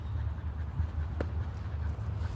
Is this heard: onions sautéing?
no